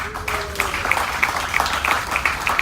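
Audience applause at a comedy show aboard the cruise ship Princess Ruby: a steady wash of many hands clapping at moderate volume, continuous from start to finish with no voices over it.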